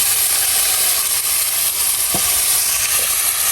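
Spices for a tempering sizzle loudly in hot oil for cooked Malabar spinach, a steady close hiss of frying with faint stirring clinks and no voices.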